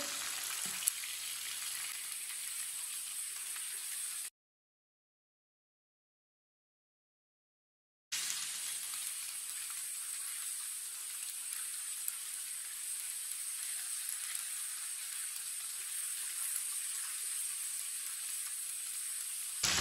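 Chicken pieces for Hyderabadi biryani fry in a pan with a steady, even sizzling hiss. The sizzle cuts out completely for a few seconds, then resumes at the same level. It is quiet and unbroken by speech.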